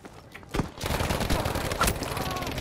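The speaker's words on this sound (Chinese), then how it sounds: "那个机枪又来了，在阳台上" Machine gun fire in Battlefield V comes as a dense, rapid rattle of shots that starts abruptly and runs steadily to the end, close and loud, with faint game effects around it.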